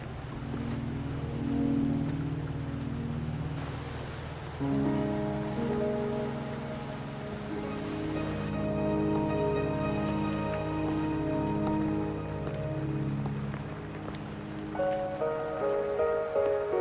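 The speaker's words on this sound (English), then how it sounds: "Are you trapped here by the rain?" Rain falls steadily in the game Wuthering Waves, a continuous patter of drops on surfaces, heard alone under soft sustained musical tones that shift throughout.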